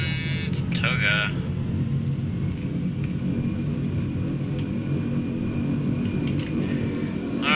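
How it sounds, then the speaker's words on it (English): A Hawaiian Airlines 717-200 jet in a flight simulator game, rolling for takeoff from Gran Canaria Airport, with a continuous low engine rumble and a few brief higher tones on top, steady and moderately loud throughout. "final takeoff from Gran Canaria Airport will be in Hawaiian Airlines 717-200"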